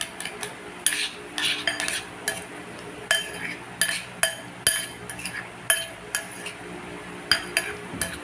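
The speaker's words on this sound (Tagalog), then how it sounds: "Stir." A utensil stirring tilapia sauce in a pan, giving a run of light metallic clinks and scrapes at an uneven rhythm, close and fairly quiet.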